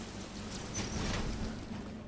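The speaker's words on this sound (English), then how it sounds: "Alright, it's very rainy." Steady rain hiss in the video game Metroid Dread, a dense, even wash of drops filling the whole short stretch at moderate loudness, with no talk over it.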